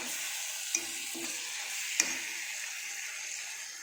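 Chicken gizzard pieces fry in hot oil for a gizzard curry, giving a steady close sizzle broken by two brief stirring clinks, with no talking.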